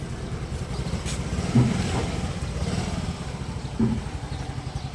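A Yamaha Mio Gear Sporty 125 scooter engine runs at a steady, close putter with a low rumbling idle and two slight surges in level.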